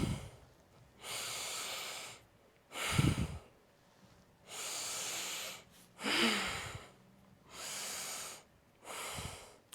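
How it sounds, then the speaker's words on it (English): Slow, deep breaths during a yoga stretch, with five long airy exhales spaced evenly and a few sharper nasal inhales between them, close and fairly quiet. "let's do 5 deep breaths here"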